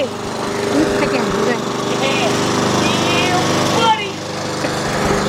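A Troy-Bilt push mower engine runs steadily after a carburetor replacement, a loud continuous drone that holds through the clip, with a brief dip near the four-second mark and a voice faintly heard beneath.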